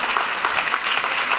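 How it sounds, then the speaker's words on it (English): A brief burst of steady audience clapping rises at a scientific conference talk, dense and even throughout, moderately loud with no voices over it. "And big hand of applause for Dr. Kim."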